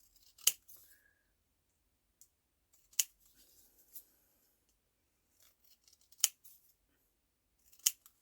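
Scissors snip paper around vintage journal pieces in a quiet room, five or six sharp, isolated cuts spaced a second or more apart, with faint rustling between them.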